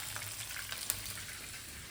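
Adobo frying in a pan during home cooking, a steady soft sizzle and crackle with a faint tap near the middle, fairly quiet and continuous with no talk.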